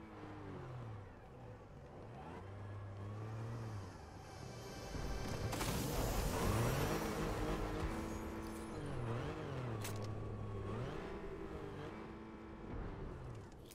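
A car drives in Fortnite, its engine droning and shifting pitch in rising and falling sweeps, with a louder burst of noise partway through, as if a crash or gunfire.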